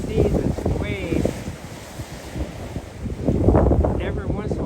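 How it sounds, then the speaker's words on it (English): Ocean surf surging and breaking against the granite rocks of Peggy's Cove, a steady roar buffeted by strong wind noise on the microphone, with the swell building louder toward the end while people talk nearby. "every once in a while there'll be a big wave come"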